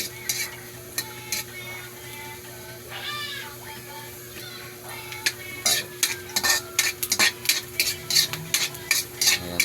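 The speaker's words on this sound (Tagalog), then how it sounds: "Lutuin ko na guys ngayon yung pinirito ko na isdang torsilyo." Fried torsillo fish being cooked in a pan, a steady low sizzle with clinking and scraping stirring sounds that grow busier and louder toward the end.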